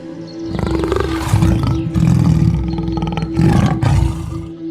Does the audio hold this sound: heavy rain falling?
no